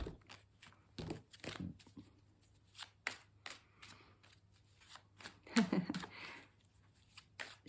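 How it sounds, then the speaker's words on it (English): A pack of tarot cards is shuffled close by in repeated short bursts of crisp riffling and flapping, separated by quiet pauses, in a quiet indoor room. "Just me shuffling a pack of cards."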